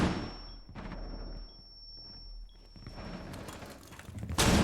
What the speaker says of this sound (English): Bro, enough with the flashbangs!